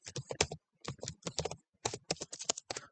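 Fingers type on a computer keyboard while entering text in Microsoft Word 2016, making rapid, close clusters of crisp key clicks broken by short pauses.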